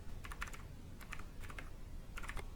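A ChatGPT prompt is typed on a computer keyboard in short bursts of quiet, close keystrokes separated by brief pauses.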